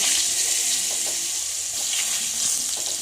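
Ridge gourd slices frying in the oil left from frying fish, giving a steady, close hiss with a few soft stirring scrapes and no talk.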